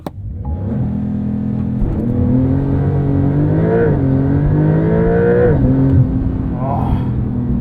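A 2022 Porsche 911 Carrera with PDK on winter tires launches hard using launch control, its engine note rising in loud sweeping pitch through successive gear shifts, close and continuous, with no talk over it.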